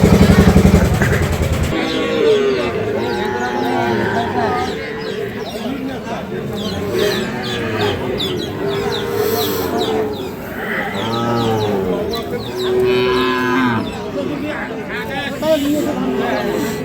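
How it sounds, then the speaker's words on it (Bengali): Sahiwal bull calves moo repeatedly at a busy Amabari cattle market, several drawn-out lows rising one after another, near and loud, amid constant chatter of people bargaining and a passing motorcycle. "চমৎকার একটা বাছুর গরু।"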